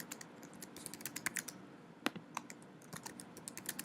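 Irregular bursts of key clicks tap away close by, quick clusters broken by short pauses, with no talking.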